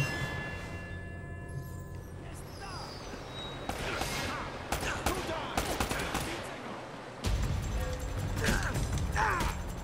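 Rapid bursts of gunfire from Uncharted: Drake's Fortune crackle over a busy mix of game effects and music, with people talking in Polish throughout.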